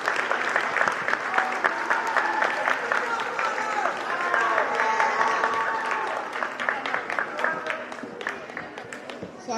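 A crowd at an eighth-grade school awards assembly gives citizenship winners a sustained round of applause, a thick, continuous patter of many hands with a few louder claps near the end and faint voices underneath.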